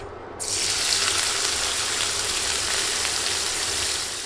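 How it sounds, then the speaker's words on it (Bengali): Four medium sliced onions drop into hot oil on a stove at medium heat, sending up a sudden loud, steady broadband sizzle that holds without a break after a brief quiet start. "এখন একই তেলে দিচ্ছি পেঁয়াজ"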